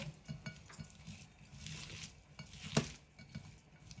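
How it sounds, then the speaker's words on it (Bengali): Chopped onion being mixed by hand with salt, lemon and green chilies, giving soft wet squelching and pattering with a few light clinks of the bowl, close and quiet, with no talking. "এখন লবণ, লেবু আর কাঁচামরিচ পেঁয়াজটা আমি খুব ভালো করে মাখাইয়ে নিব।"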